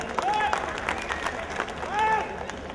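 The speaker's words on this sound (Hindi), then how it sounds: "सिंह जी के लिए एक जोरदार तालियां हो जाए" At a Holi gathering in Hyderabad, a crowd applauds in a faint, continuous patter beneath a lively voice and a melodic tone sounding over it, with the hall's murmur behind.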